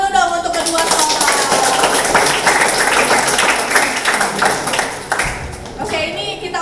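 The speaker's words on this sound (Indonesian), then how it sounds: "tepuk tangan dulu dong untuk kedua sekolah" Applause for both schools at a high school debate event in Palembang, dense clapping running throughout alongside crowd noise and voices.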